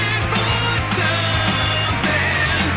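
A song plays steadily, a full band mix with a sustained low drone and a continuous dense texture throughout, with no talk.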